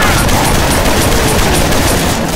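Rapid, loud automatic gunfire from the zombie shooter Left 4 Dead 2, a dense fusillade of overlapping shots crackling continuously for a couple of seconds.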